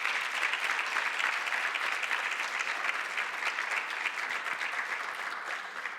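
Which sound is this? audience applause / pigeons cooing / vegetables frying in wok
audience applause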